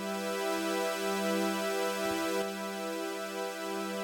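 A sustained, airy synthesizer pad from UVI Falcon drones steadily with rich harmonics and a spacious reverb tail, alone and unchanging in level throughout.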